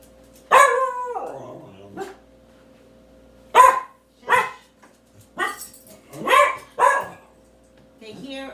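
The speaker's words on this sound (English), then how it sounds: "They hear an airplane go by and they bark" Dogs bark in short, sharp bursts at a passing airplane, some single and some in quick pairs, loud and close, with quiet gaps between.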